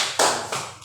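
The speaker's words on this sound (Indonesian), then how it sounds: "Bagus sekali, tepuk tangan." Two sharp, close hand claps about a third of a second apart in a classroom, each ringing briefly in the room.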